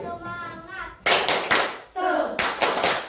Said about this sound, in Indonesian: Kita lakukan tepuk semangat biar kita lebih semangat lagi dalam belajar.